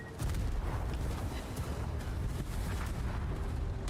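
Carpet bombers' bombs exploding in World of Warships, a dense, continuous rumbling barrage of blasts with heavy low-end boom and roaring wind-like noise, loud and sustained throughout.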